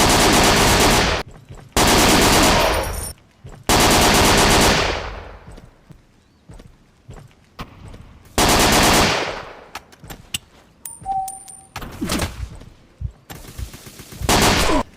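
Bursts of rapid automatic gunfire from the VR battle royale game Bounty City, several loud sustained volleys separated by pauses, with scattered single shots and game effects in between.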